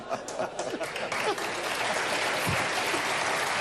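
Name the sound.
audience applause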